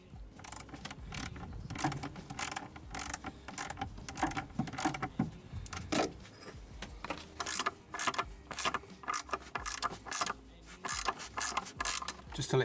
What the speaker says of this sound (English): I've got a little sort of swivel ratchet here because it makes it a little bit easier.